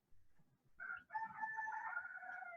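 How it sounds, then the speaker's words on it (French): Rooster crowing outdoors at daybreak, one faint, distant cock-a-doodle-doo rising and holding for about two seconds, preceded by a brief low rustle. "Ah, vous entendez les coqs se réveiller."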